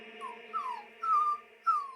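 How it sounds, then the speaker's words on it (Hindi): A dog whimpers in four short, high, falling whines spaced across two seconds, fairly close and clear, with a faint steady hum underneath and no talking. "चुप कर जा कुत्ते, भौंक मत।"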